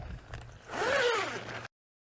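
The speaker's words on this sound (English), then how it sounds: "It zips on both ends here to get it around the ladder" The annex zipper on an iKamper Skycamp Mini rooftop tent is pulled in one smooth, close zip lasting about a second, followed by silence.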